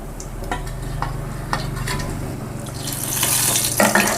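Vanjaram fish frying in a pan, a steady crackling sizzle with light scraping and stirring clicks, growing a bit louder and brighter near the end, no voices.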